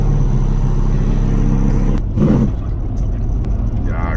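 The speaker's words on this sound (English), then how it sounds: "Yeah, crazy hot rod car." A hot rod car drives through cornfields, its engine holding a steady, loud drone before a brief surge and rumble near the middle, then settling back into a continuous running note.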